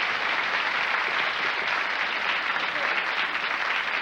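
A TV game show studio audience claps and cheers in a dense, continuous wave of applause that holds steady and loud throughout.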